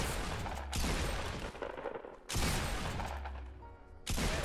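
Bursts of gunfire in the battle royale game Fortnite come in three loud, dense volleys, each a rapid stream of shots separated by brief quieter gaps.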